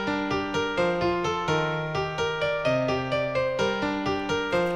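Distinctive piano part from a song, a bouncy repeating riff of stacked chords over a steady left-hand bass line, played clearly and alone at a moderate level.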